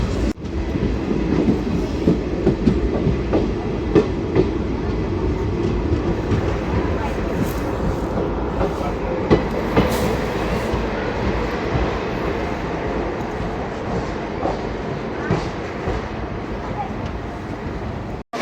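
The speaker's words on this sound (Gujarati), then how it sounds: "આપણી ટ્રેન રાઈટ ટાઈમ પહોંચી ચૂકી છે વીરપુર રેલવે સ્ટેશન" Train pulling into Virpur railway station, a steady loud rumble and rhythmic clatter of rail cars running continuously close by, with a brief dropout at the very end.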